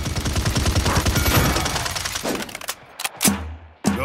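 Weapon shooting in the hero shooter Paladins on PS4, a fast run of rapid automatic shots followed by a few separate loud bursts with short gaps between them.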